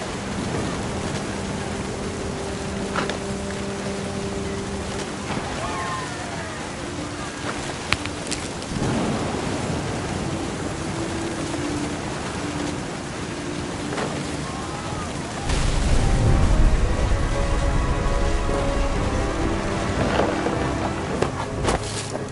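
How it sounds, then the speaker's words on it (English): Steady rain and wind in the game What Remains of Edith Finch, with scattered crackles and a deep thunder rumble that swells louder in the last few seconds. "The thunder sounded much too close and full of angry power"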